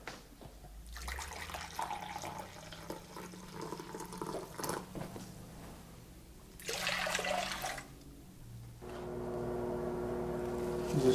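Boiling water poured from a kettle into a bowl of yeast and milk while making braided bread dough, a steady watery rush in two bursts, the second ending in a rising fill tone, close and fairly loud.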